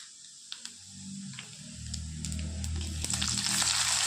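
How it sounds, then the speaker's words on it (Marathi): Cumin seeds sizzle in hot oil in a home kitchen, a steady crackling hiss that builds in loudness, with a few faint clicks and no voices. "तेल गरम झाले एक चम्मच जिरे"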